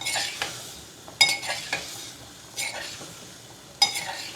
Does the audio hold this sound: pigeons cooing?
no